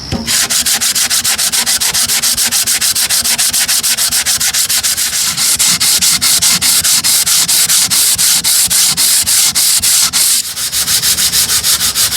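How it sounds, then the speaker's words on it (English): Continuous, loud rhythmic sanding of a wooden pouch board from a photoplayer, rapid back-and-forth rasping strokes with a brief pause near the end, no voices. "The pouch board also gets a final sanding."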